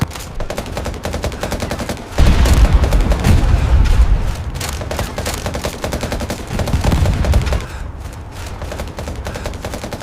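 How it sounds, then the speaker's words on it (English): Battle scene in an audio drama with rapid gunfire and machine-gun bursts, bullets whizzing, and heavy booming impacts, loud and dense throughout with a surge of low rumble midway. "The ground shook as I ran, and bullets whizzed past me."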